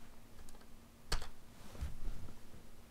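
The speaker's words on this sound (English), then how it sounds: "So we're going to type q test 1." A computer keyboard is typed on for a short entry, with a few close soft key taps and one sharper click over a low background hum.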